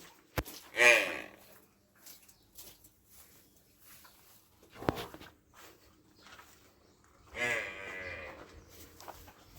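Two Jafarabadi water buffalo moos several seconds apart, one early and one near the end, with scattered thuds and clatter in a quiet dairy farm barn.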